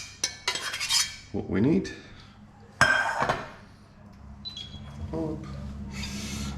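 Ingredients being mixed together in a bowl with a utensil, giving sharp clinks and scraping knocks against the sides in irregular bursts, close by, with a short spoken phrase.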